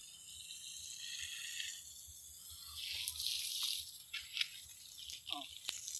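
Water pours and drips onto freshly planted bougainvillea outdoors, a soft, faint splashing with scattered droplets and a few brief bright sounds.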